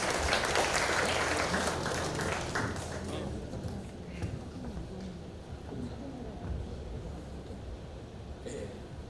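An audience at the opening ceremony of the 2025 Incheon Open Port International Photo Festival claps to welcome a university professor to the stage, the applause loud at first then thinning into scattered claps as a voice starts speaking.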